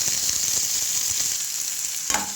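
Onions frying in oil in a pan, added after mustard seeds for a bottle gourd and tomato curry, giving a steady close sizzle throughout with a brief louder stir near the end.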